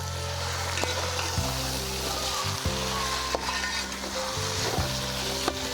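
Chicken fries with spices in a pot while being stirred, a continuous loud sizzle broken by several spoon scrapes and knocks against the pan, with a low steady hum beneath.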